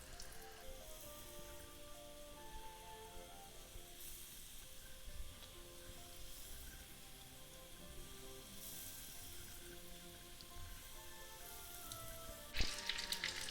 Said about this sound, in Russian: Теперь обжариваю рулетики с каждой стороны до золотистого цвета